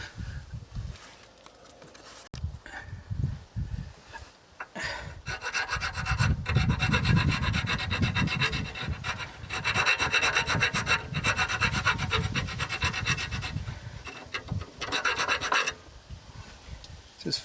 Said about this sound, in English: Just filing off where I cut it so that nut will fit over a little better.